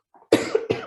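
A person coughing during a lecture on Haiti and immigration law: a faint throat sound followed by two loud, harsh coughs in quick succession, close and alone.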